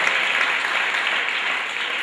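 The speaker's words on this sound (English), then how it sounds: "Let's give Logan a round of applause for standing up and telling his story." Steady applause from a school audience at an anti-bullying presentation in a high school, a dense continuous clapping that fills the whole moment without letting up.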